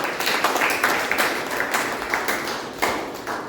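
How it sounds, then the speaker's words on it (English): Audience applause at a Toastmasters club meeting, a small group clapping with individual claps audible in uneven bursts, fairly close and tapering off toward the end. "A big round of applause for yourself."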